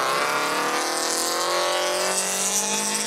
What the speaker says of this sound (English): Just with the exhaust notes there.